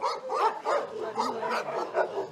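An aggressive dog at an animal shelter barks repeatedly in a steady run of harsh, fairly close barks that fill the whole stretch, with some whimpering yips mixed in.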